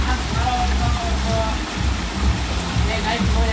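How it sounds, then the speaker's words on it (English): Water rushes steadily at Tegenungan waterfall in Bali, a spring-fed fall. The broad, continuous roar sounds fairly close and runs under a speaking voice. "This is at the Gendungan waterfall."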